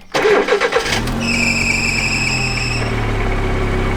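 An old Lada Niva engine cranks and starts, then settles into a steady idle with a faint high whine from the clutch release bearing running over the rumble.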